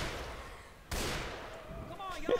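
Gunfire in Left 4 Dead 2, a sudden loud burst of shooting that cuts in abruptly and keeps rattling on with lighter shots, while a player talks over it.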